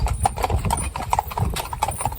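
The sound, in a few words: cob horse hooves clip-clopping through a puddle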